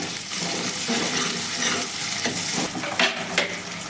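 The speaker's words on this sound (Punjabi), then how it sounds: "ਹਰੀਆਂ ਮਿਰਚਾਂ ਨੂੰ ਵੀ ਆਪਾਂ ਥੋੜਾ ਜਿਹਾ ਫਰਾਈ ਕਰਾਂਗੇ" Onions and green chillies sizzle and fry in a pan for a pumpkin curry, with steady crackling and occasional stirring scrapes, loud and close with no talk.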